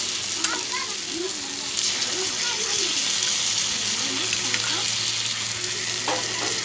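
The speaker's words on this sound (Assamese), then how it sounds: "ইয়াতে এতিয়া মই পিচি ৰখা মছলাখিনি দি দিম।" Ground spice paste fries in a pan, a continuous close sizzle and bubbling hiss with occasional stirring, while a voice talks faintly underneath.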